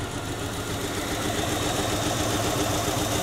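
A vehicle engine idles steadily nearby, giving a continuous low rumble with even vibration and no speech over it.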